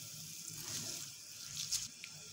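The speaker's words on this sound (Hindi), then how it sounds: "तो आप लोग देख सकते हैं पानी में बॉयल आना शुरू हो चुके हैं" Water heats toward a boil in a cooking pot for green chana pulao, giving a soft, continuous bubbling and hissing wash that swells slightly, with no voices.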